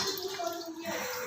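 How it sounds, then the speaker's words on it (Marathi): Tap water pours into a container at home in a steady, rushing splash. It is fairly faint, with a voice murmuring in the background. "नळ आलेले होते, आत्ता नळाचं पाणी भरलं मी."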